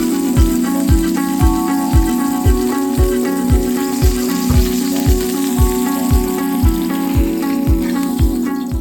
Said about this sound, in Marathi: फिश परतताना एखादा काविलता आणि दुसऱ्या बाजूला सुरी किंवा दुसरा काविलता याची मदत घ्या, जेणेकरून ते व्यवस्थित परतून होईल।